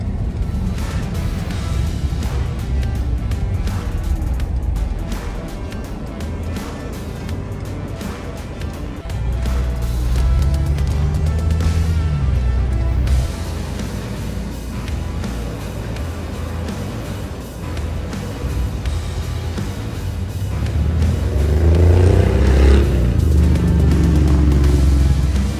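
2023 Chevrolet Colorado pickup with a 2.1 liter four-cylinder engine driving, a steady engine and road drone that swells louder toward the end, with no talking.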